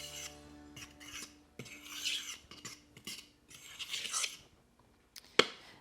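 Dry baking ingredients, salt and lilac-infused sugar, are stirred together in a bowl, giving short bursts of gritty scraping and rustling with brief pauses and a sharp clink near the end, close and quiet.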